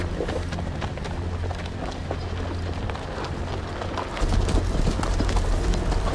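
Horses' hooves clop steadily in the Telltale Game of Thrones video game, a quick rhythmic patter that grows louder and heavier near the end, with a rushing wind-like background.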